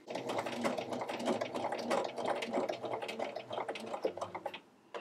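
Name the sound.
sewing machine sewing microsuede fabric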